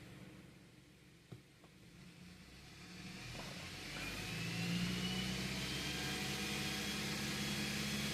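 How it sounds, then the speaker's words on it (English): A BMW engine with a squeal problem revs up and then holds steady around 2000 RPM, a low, smooth hum rising in pitch and loudness midway and sustaining, heard close with a couple of faint clicks early on. "Now I am accelerating and holding it at about 2000 RPM."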